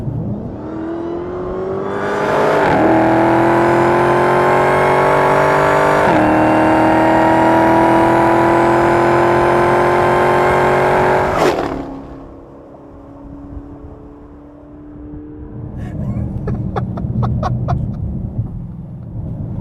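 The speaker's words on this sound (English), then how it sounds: "stay in that acceleration surge, and then you end up going way too fast" A Dodge Challenger Hellcat engine revs up loudly and holds a high-pitched surge for several seconds, then drops back to a lower drone before building again.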